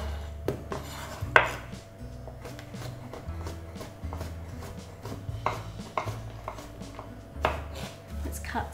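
A knife chops through a ball zucchini on a board, sharp repeated cuts at an uneven pace under a steady speaking voice.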